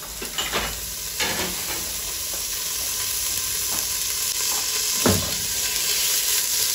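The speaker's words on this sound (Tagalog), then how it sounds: "Next is, it's time to add our butter." Butter sizzles loudly in a pan with browned beef for Filipino beef mechado, a steady bright hiss with a few spatula scrapes and pops, no talk.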